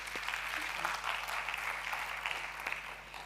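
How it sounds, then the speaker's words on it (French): A small group at an apartment tour in a rehabilitated Paris residential tower applauding their host, a faint, steady patter of clapping heard at a distance under a low background hum. "on va l'applaudir"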